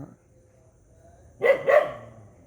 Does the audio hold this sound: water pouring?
no